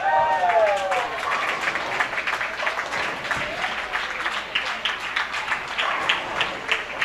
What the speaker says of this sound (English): People are actually starting to cheer.